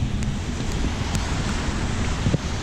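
Rain falls steadily outside beside a parked orange car, a constant, even hiss with a few faint taps and patters on nearby surfaces.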